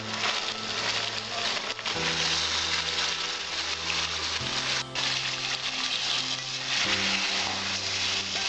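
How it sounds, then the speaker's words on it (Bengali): Yogurt chicken pieces fry in a pan for a Bengali-style dahi chicken, a steady close sizzle under sustained background music, with no talking. "এইবার আমি চিকেনগুলো ছেড়ে দিচ্ছি।"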